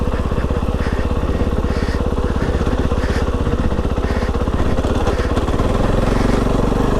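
A Kove 450 Rally dual sport motorcycle engine runs steadily while riding, a dense rapid single-cylinder thrum that stays loud and close throughout, its pitch dropping slightly near the end.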